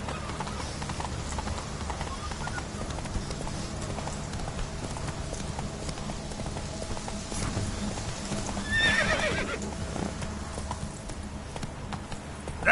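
Roach, the horse in The Witcher 3, clip-clops at a steady trot through the whole stretch, with a whinny rising near the end over a dense bed of game ambience.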